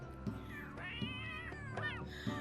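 Cats in The Sims 3 video game meowing, several drawn-out rising and falling meows in a row with soft thumps between them, fairly close and clear over faint background.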